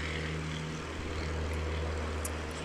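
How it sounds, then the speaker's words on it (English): Airplane taking off near an outdoor aircraft museum, a steady, fairly loud engine drone with a low humming tone that carries evenly through the moment, heard outdoors without talking. "There goes a plane taking off."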